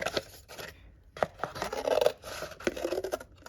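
Scissors snip into a paper bowl to make a bowl loom, giving several close, crisp cuts with scraping paper rustle between them and no speech.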